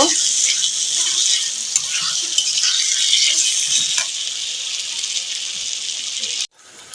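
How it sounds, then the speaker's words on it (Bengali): Potatoes with salt and spices sautéing in a pan for a chicken liver dish, a steady loud sizzle with scraping stirs throughout, cutting off abruptly near the end. "এখন আলুগুলো ভালো করে কষিয়ে নিব।"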